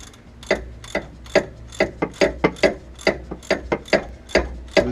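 Ratchet clicking steadily while removing differential bolts, a close, dry series of rapid ticks in quick bursts, alone with no talking.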